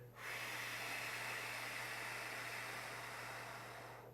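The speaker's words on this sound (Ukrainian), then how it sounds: "Ще один раз вдих і видих" Slow, steady breath drawn and let out during a deep-breathing exercise, a soft continuous airy rush lasting several seconds, close and alone with no talk.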